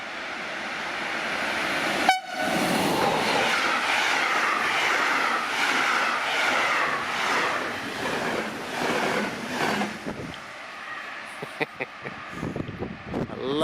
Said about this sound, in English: I love the trains coming in, especially when they're fast.